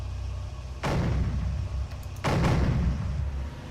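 Two heavy tank cannon shots boom in the Cry of War video game, each a sharp blast with a rumbling tail, about a second and a half apart over a low engine-like background.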